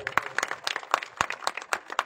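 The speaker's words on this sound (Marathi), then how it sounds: "त्यासाठी संदीप दादांसाठी टाळ्या होत्या" Applause for Sandeep dada after his speech at a Supreme Colony gathering: faint, fairly rhythmic clapping from a small group, lasting a couple of seconds with no talk.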